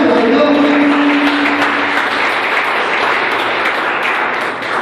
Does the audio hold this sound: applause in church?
yes